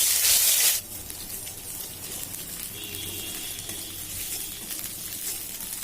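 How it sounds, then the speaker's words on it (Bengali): Dried red chili, green chilies and garlic paste hit hot oil with a sharp initial burst, then settle into a steady, even sizzle that carries on alone. "ফোড়ন দেবো একটা শুকনো লঙ্কা আর কাঁচা লঙ্কা এবং রসুন বেটে রেখেছিলাম, সেটা দিলাম"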